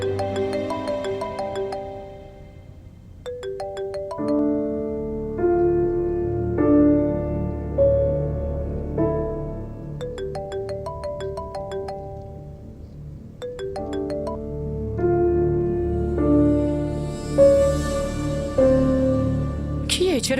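A mobile phone plays a melodic ringtone for an unknown caller, looping its chiming tune again and again at a steady level for about twenty seconds.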